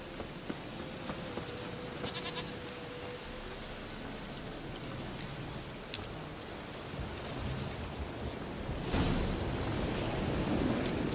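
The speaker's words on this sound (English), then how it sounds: "Looks like rain." Steady rainfall in The Witcher 3: Wild Hunt hisses throughout, a dense even patter that swells slightly near the end, with a few faint distant bleats early on.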